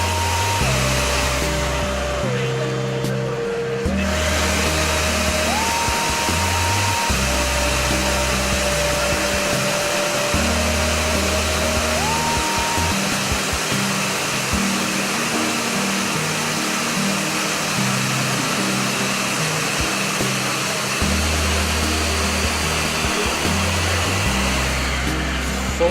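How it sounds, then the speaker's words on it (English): A Charnock escalator cleaning machine runs steadily with its vacuum on and brushes turning on the escalator step surface, a loud continuous whirring drone with a low pulsing hum, no talk. "the vacuum is on and then the brushes are moving inside on the surface of the escalator, that is cleaning the escalator there"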